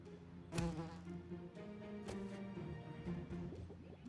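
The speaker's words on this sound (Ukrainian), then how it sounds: "В бджолу влучили." Steady droning buzz of a bee in the Stickman Archer mobile game, sustained and fairly loud throughout, with a couple of sharp impact hits near the start and middle layered over it.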